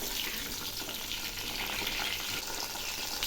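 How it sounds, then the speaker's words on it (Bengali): Pieces of pointed gourd (potol) frying in a pan give a steady, close, dense sizzle that runs evenly from start to finish with no voices. "পটলগুলো খুব ভালো করে ভেজে নেব।"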